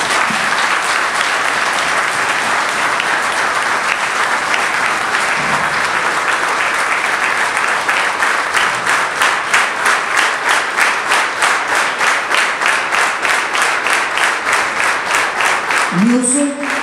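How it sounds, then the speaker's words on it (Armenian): An audience at a ceremony honoring fallen heroes of the 2020 Artsakh war applauding, sustained loud clapping that turns into rhythmic unison claps in the later half, with a voice speaking at the very end. "խնդրում եմ ծափահարեք"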